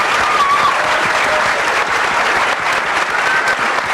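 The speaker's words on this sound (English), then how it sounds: "How about a big round of applause for all of our panelists?" Dense, loud applause from a debate audience for the panelists at an evening minimum wage debate, a steady wash of clapping sustained without pause for about four seconds.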